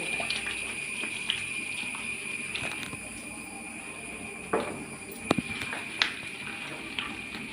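Ghee and butter sputter in a hot pan while jackfruit seed halwa cooks, giving a steady hissing sizzle broken by a few sharp pops. No one speaks.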